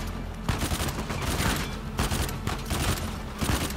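Rapid bursts of gunfire from the Uncharted 4: A Thief's End video game, loud clustered shots and volleys repeating across the whole stretch with no talk.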